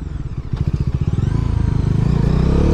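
A 400cc sports tourer motorcycle engine runs close by with a loud, rapid, throbbing exhaust pulse that builds steadily in intensity across a few seconds.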